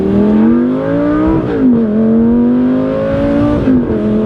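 Lamborghini engine roars as the car accelerates hard, a loud, close, sustained rising drone with a gear-shift dip partway through and then climbing again, heard from inside the cabin.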